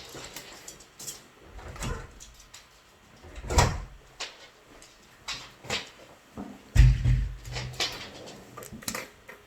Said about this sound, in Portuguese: Deixa eu só abrir ali a porta que o cachorro levantou.